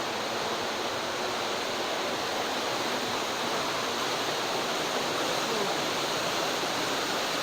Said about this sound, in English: You can hear the rushing water.